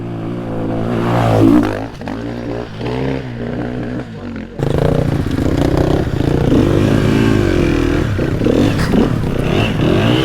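A rally motorcycle engine revs and drops back unevenly, briefly losing power and stuttering through a bog before pulling again, loud and close with wind and mechanical clatter throughout.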